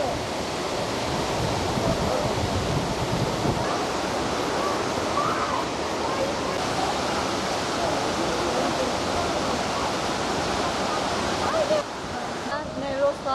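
Steady, full rushing roar of the Kaval waterfall in Hakkari, heard close and unbroken throughout, with water noise dominating the whole stretch.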